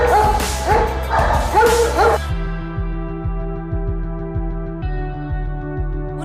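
A police search dog from a canine unit in Rwanda barks and yips up close: a quick excited flurry at first, then a steady run of evenly spaced, loud barks.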